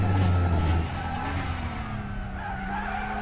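A DTM race car in a racing video game drones loudly up close, with tyres squealing and skidding over a sustained engine tone that shifts slightly in pitch.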